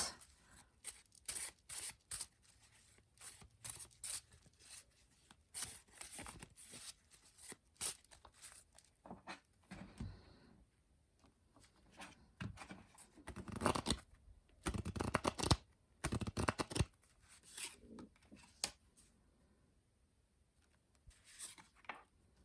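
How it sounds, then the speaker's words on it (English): Crisp, papery handmade tarot cards shuffling and riffling in repeated bursts, close up, with soft flutters between quick snaps; no talking. "the full deck also shuffles just beautifully"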